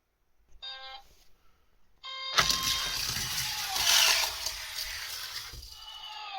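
A 1:64 scale diecast yellow Lotus Europa rolls down a toy race track: a couple of starting beeps, then a loud rushing, rattling roll across the plastic track that sustains for about four seconds.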